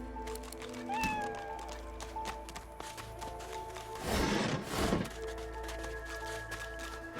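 A cat in the fantasy role-playing video game Divinity: Original Sin 2 gives a short, clear meow early on, set against a steady game ambience with a brief burst of louder noise later.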